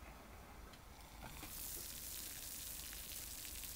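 Water at a rapid boil in a pot on a wood-fired TLUD stove, top-lit with pine, gives a faint, steady hiss and bubbling that swells slightly midway and then holds even, with no voices.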